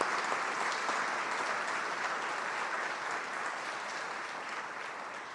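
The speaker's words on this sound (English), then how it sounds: "One more round of applause for all of our retirees." Sustained applause from a board of education meeting audience for retiring teachers, dense and steady, tapering slightly toward the end.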